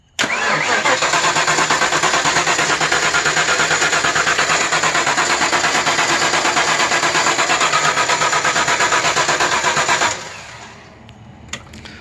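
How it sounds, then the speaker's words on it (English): A 5.0L Ford Mustang V8 cranks for about ten seconds on a nearly dead battery, a loud, steady, even starter churn that never catches, then cuts off, leaving faint clicks. "with that way too long of a crank on this almost dead battery"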